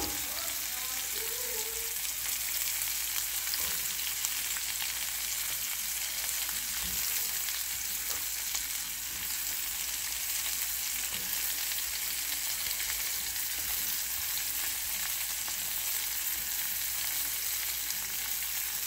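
Apple and onion fry in a pan, producing a steady crackling sizzle that runs unbroken throughout, close and fairly loud, with no voices.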